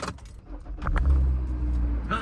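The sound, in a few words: car starting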